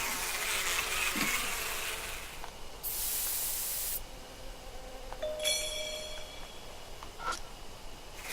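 Spray bottle misting a drug onto a bee hive in the video game Death Mark: a faint insect buzz, then a sharp steady hiss of spray lasting about a second, followed by small clicks and quiet tones.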